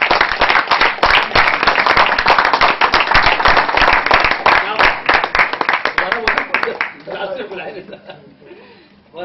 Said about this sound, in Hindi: जोरदार तालियां इनकी।